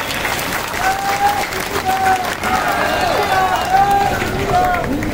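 Sustained applause from an audience at a rally for the Batham-Kewat-Nishad community in Gwalior, with dense, steady clapping under a shouting voice and whistle-like tones.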